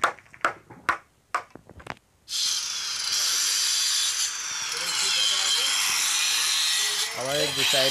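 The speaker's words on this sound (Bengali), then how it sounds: "ড্রিল করে সলা মেরে নিচ্ছি" A power drill drives screws into a wooden mini bed frame, its loud whirring whine running steadily for several seconds after a few sharp knocks and some talking; a voice is heard again near the end.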